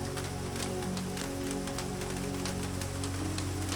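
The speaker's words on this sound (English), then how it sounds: "The rhythm of the rain hasn't changed" Steady rain falls continuously on surfaces in an even, unbroken wash of patter, faint and alone with no voices.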